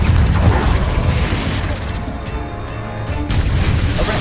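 A loud, dense blast rumbles from the Confringo explosive spell in Hogwarts Legacy, heavy low booms and crackling debris filling the whole moment, with a fresh surge of impact near the end.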